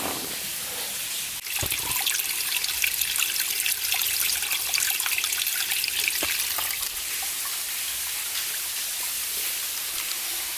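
Water trickles steadily at Schwoon Spring along a hiking trail in Savage Gulf, Tennessee, a close, continuous dribbling and splashing with no voices.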